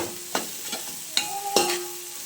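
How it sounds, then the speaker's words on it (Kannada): Chopped onions frying in oil in a pan, a soft steady sizzle broken by several sharp clinks and scrapes of a spoon stirring against the metal, close and with no talking. "ಈರುಳ್ಳಿನ ಎಣ್ಣೆ ಒಳಗಡೆ ಫ್ರೈ ಮಾಡ್ಕೊಳ್ಳೋಣ ಸ್ವಲ್ಪ ಹೊತ್ತು."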